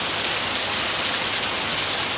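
Steady rain falls on a rainy morning in Mississippi, a constant dense hiss of drops with no breaks or other sounds.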